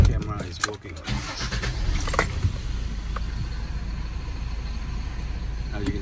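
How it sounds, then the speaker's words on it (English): An Isuzu FSR/FSD truck engine cranks and turns over, then settles into a steady low rumble, with some clicks and rustling at the start, in light rain. "we will turn on the engine"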